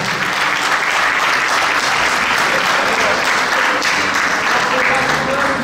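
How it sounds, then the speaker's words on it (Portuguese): An audience breaks into dense, sustained applause for an accordionist, many hands clapping loudly and evenly throughout with no pauses. "eu pedia uma grande salva de palmas para o Michel"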